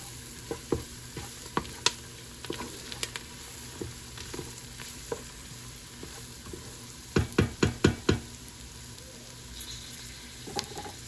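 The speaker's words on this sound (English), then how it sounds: "So I'm gonna let it a little bit fry and I'll come back." Chicken biryani fries in a pan on high heat with a steady crackling sizzle, broken by a quick run of close clattering stirs partway through.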